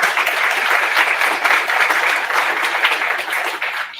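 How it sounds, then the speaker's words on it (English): An audience applauds the Desiree kids, who stand at a property roadshow event; steady, dense clapping fills the room throughout, loud and sustained. "just give them a nice round of applause"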